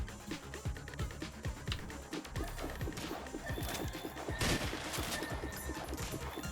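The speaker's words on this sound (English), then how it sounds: "More needle shotguns." Needle shotguns blasting away in the video game Slime 3k make a dense, continuous barrage of rapid overlapping bursts and crashes, loud and unbroken throughout, with no voices.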